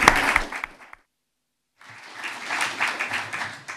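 Audience applause, a dense patter of many hands clapping, stops abruptly, falls silent for nearly a second, then swells up again and continues steadily.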